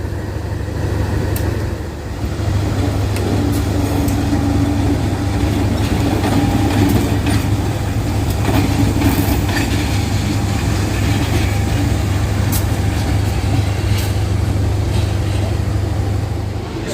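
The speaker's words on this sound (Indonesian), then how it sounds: "Ini lokomotifnya apa ini tadi? Malabar mungkin." A continuous low rumble and rattle of the Ijen Express passenger train, locomotive-hauled between Malang and Banyuwangi, rolling along rails, steady and fairly loud for the whole stretch.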